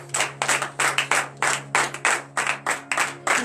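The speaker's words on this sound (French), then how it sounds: "Veuillez vous lever sur vos pieds et donner de vives acclamations à notre Seigneur Jésus." Congregation at a morning prayer service clapping in acclamation, about a dozen loud, evenly spaced claps in a steady rhythm with a faint hum underneath.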